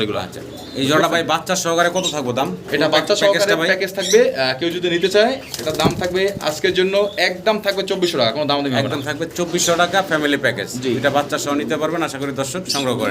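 Original high-flyer fancy pigeons coo steadily throughout at a loft, with continuous nearby talking layered over the birds' murmuring calls.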